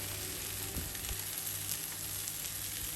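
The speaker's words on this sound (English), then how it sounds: "Place all your squares back on the frying pan, or in my case, griddle." Chicken malai boti squares sizzle steadily on a hot griddle, a soft continuous frying hiss with faint crackles and no voices.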